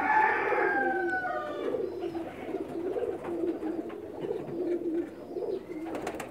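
A pigeon coos in a soft repeated rhythm of low, rolling calls close to the microphone, preceded by a brief higher chirping call at the start, with light background noise and no talk.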